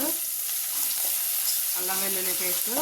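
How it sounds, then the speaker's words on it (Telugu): Ginger garlic paste and mint frying in a hot pan, a loud continuous sizzle with stirring, while a voice speaks over it in the second half. "అల్లం వెల్లుల్లి పేస్ట్ వేగిపోయింది"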